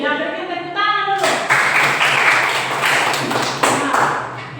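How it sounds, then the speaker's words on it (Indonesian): A classroom of students clapping their hands in applause, a dense burst of many hands close by that carries on steadily after a brief spoken prompt. "berikan tepuk tangan dulu"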